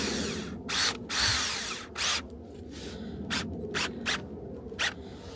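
Power drill driving screws to fix an inner hatch onto a campervan water tank: a handful of short whirring bursts, the longer ones first and then several quick spurts, heard close over a low background hum.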